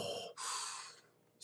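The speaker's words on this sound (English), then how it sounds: "you heard the breathing from the mask" A wrestler wearing a Bane mask breathes heavily through it, a short airy exhale followed by a longer rasping breath, close and hissy with no speech.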